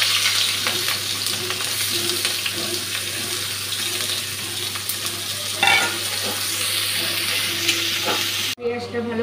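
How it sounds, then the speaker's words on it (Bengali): Chopped onion and green chili frying in hot oil for a katla fish and potato curry, a continuous close sizzle with small crackles, ending in a brief clatter of utensils. "পেঁয়াজ কাঁচা লঙ্কাটা দিয়ে দিচ্ছি এখন।"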